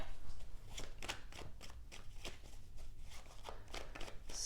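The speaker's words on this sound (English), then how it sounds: "Just going to give this a good shuffle because I used it at the beginning." A deck of tarot cards is riffled close by in a steady run of crisp, rapid flicks, repeating in regular bursts with no speech.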